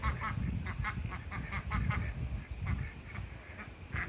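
Several ducks quack repeatedly in short rhythmic bursts nearby, over low outdoor rumble.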